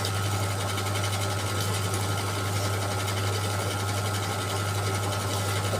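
A sewing machine runs steadily and loudly throughout, a continuous mechanical hum with fast rhythmic stitching, being set up and adjusted after a fault, with no talking.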